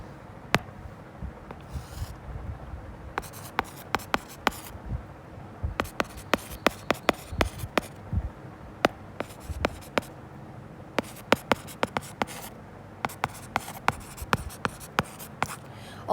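A pen writing a company name in Hindi script on paper: close, faint scratching with quick irregular strokes and small taps, pausing briefly between word groups, no talking.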